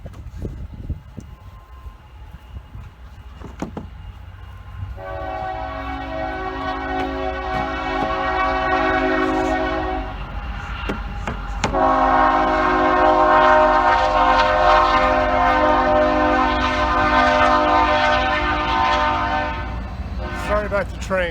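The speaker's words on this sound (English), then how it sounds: "Sorry about the train. We have that in our backyard." A train passes behind a backyard, sounding two long, loud horn blasts, the second longer than the first, over a low rumble of the train going by.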